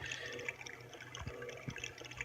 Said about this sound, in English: It sounds like water running.